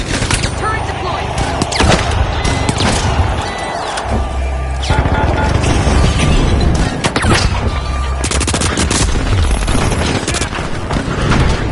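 Automated turret firing after deployment in The Finals video game, loud sustained gunfire mixed with crashes and booms throughout, with a voice speaking over parts of it.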